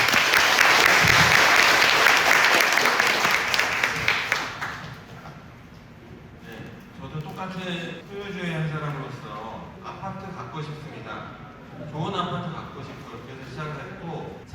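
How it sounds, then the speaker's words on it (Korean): Dense applause from residents at a redevelopment briefing in Cheonho-dong welcoming the committee chairman, loud for about four seconds before fading, after which someone speaks. "우리 고생하시는 통합위원장님 박수로 맞이하겠습니다"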